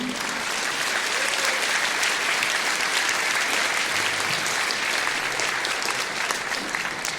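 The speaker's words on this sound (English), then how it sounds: "Give him a nice round of applause, Brent Hussing." A community band concert audience gives a hearty round of applause, continuous dense clapping at steady loudness for several seconds, with faint murmuring and brief low tones beneath.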